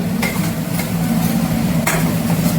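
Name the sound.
eggplant and green chilies frying and being stirred in a pan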